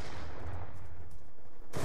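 Gunfire in an online first-person shooter game, a loud, dense stream of shots rattling almost without pause for a couple of seconds.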